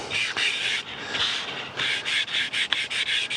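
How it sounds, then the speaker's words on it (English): Hand buffing the finish on a curly maple gun stock: a rapid series of short, dry rubbing strokes of cloth on wood, close and steady, quickening toward the end with no talk. "Hand buff it for a bit more."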